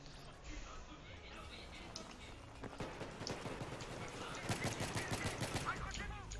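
M16A4 rifle fire in a video game, a run of sharp rapid shots building from scattered cracks into dense bursts, with a voice talking throughout.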